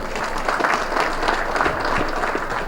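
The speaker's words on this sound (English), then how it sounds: "Can we give them a clap, please?" Audience applause at a military games and cultural event ceremony, a broad, continuous clapping from a large crowd that stays even and fairly loud across the whole moment, with no talk over it.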